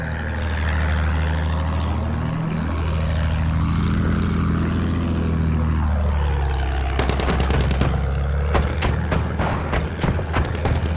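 Propeller engines of an enemy bomber in Battlefield 1 drone loudly overhead, their pitch sweeping as the plane passes, with a burst of rapid gunfire cutting in during the last few seconds.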